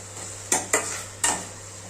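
Sweet potato leaves frying in a pan, three sharp metal scrapes and clanks of stirring over a faint, steady sizzle and low hum, close by and with no talking.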